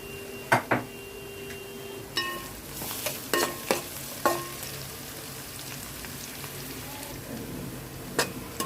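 Onions and a bay leaf frying in oil in a pan for a Telugu-style crab curry, a soft steady sizzle broken by several sharp clinks and scrapes of a spoon against the pot.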